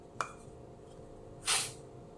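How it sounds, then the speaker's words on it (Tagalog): A perfume body spray bottle gives one short hiss, then a longer, louder burst of mist a moment later, close up and faint overall against a quiet room. "Perfume body spray."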